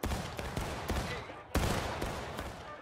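Rifle and musket volleys crackle through a Civil War battle, with repeated sharp shots in close succession and a louder blast midway, over a dense background of distant firing and shouting voices.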